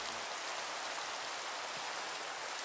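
Steady rainfall in the Minecraft video game, a continuous dense hiss of falling drops that fills the whole clip at an even level, with no voices over it.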